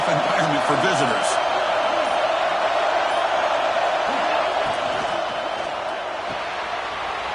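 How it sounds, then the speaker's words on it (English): A football video game stadium crowd roars in a steady, dense wash of cheering throughout, with a commentator's voice talking over it. "Listen to the crowd energy here in the early going."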